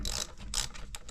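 A ratchet fitted with an 11 millimeter socket loosening bolts gives three quick, close clicking bursts, with no talk over it.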